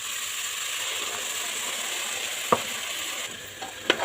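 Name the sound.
stirring coconut-tamarind paste into vatha kuzhambu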